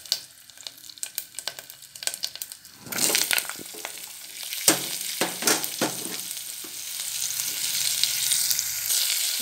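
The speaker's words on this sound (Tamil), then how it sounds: "இது பொரிஞ்சதும் இந்த ஒரு மாங்காவை இப்போ அப்படியே போட்டுடலாம்." Raw mango pieces drop into hot oil: quiet crackling gives way to a sudden louder burst of sizzling, then sharp spattering pops settle into a sustained, close frying hiss.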